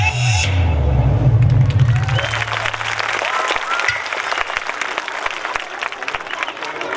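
Audience clapping for young child performers at a stage show, steady dense applause over a crowd, with a low musical tone fading out in the first seconds.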